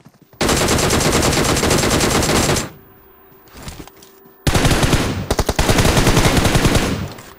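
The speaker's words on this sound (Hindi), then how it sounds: "इसको मैं बहुत फायर करता हूँ लेकिन वो मरता नहीं" BGMI mobile battle royale gunfire: a long, dense automatic burst, a short lull with scattered distant shots, then another sustained stretch of rapid fire, loud and close, with no talking.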